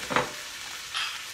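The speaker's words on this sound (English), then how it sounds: "Give it a little bit of a stir. Saute that down some." Diced tomato going into a pan with cooked shrimp gets a brief stir, giving a short scraping swish followed by a soft, steady sizzle close by.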